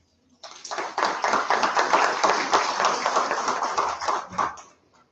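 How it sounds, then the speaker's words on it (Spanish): A lecture audience applauds as a visiting university professor is welcomed before his talk on consumer rights, a full, close round of clapping that starts abruptly, holds steady for about four seconds, then tapers off. "lo recibimos con voto de aplausos"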